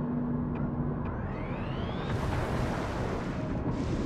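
Heavy weapon fire in Barotrauma: a loud rumbling boom with a rising whine, followed by a dense roaring wash that fills the whole clip.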